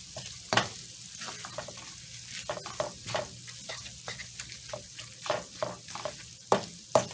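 Chopped cheese meat, with cheese melting into it, crackles in a frying pan on a switched-off stove while a utensil repeatedly scrapes and stirs, giving irregular rhythmic scraping over a soft continuous sizzle at close range.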